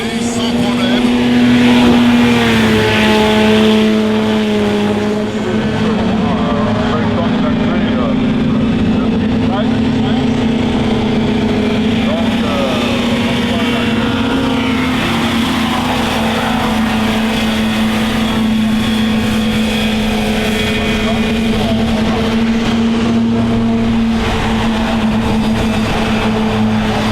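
Formula 50 class racing hovercraft, all running the same Rotax engine, drone continuously with a sustained buzzing whine that rises and falls slightly in pitch, while a commentator talks throughout.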